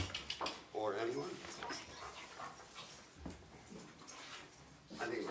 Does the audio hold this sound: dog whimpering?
yes